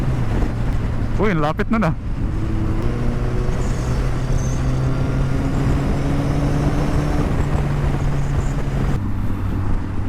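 A Kawasaki ZX14R motorcycle engine drones steadily while riding, loud and close with heavy wind rush, its pitch holding and shifting slightly, and a rider briefly speaks early on.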